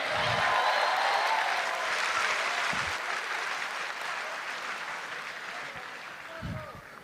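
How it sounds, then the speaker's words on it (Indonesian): A live audience at a stand-up comedy grand final cheers and applauds the three finalists, a broad wash of clapping that starts strong and slowly fades over several seconds, with a brief voice or shout near the end. "Tepuk tangan untuk ketiga grand finalis Suci 12."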